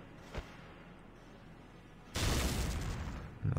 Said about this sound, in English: at least you just throw a nade over here